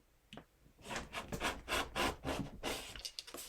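Scissors snip and rasp through the seams of a lace and jersey vest, a close, quiet run of repeated rough cutting strokes in uneven rhythm, with brief pauses between bursts.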